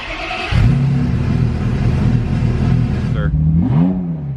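A straight-piped Ferrari F355 engine barks to life and holds a loud, raspy rumble up close, then revs sharply twice near the end, its pitch climbing and falling with each blip.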